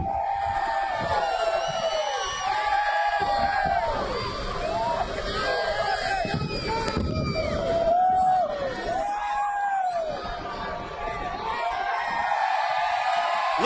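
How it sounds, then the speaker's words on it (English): A large crowd roars and cheers continuously at a NASCAR race at Bristol, with whoops and yells rising and falling, heard from a distance amid general commotion. "Listen to the crowd roar."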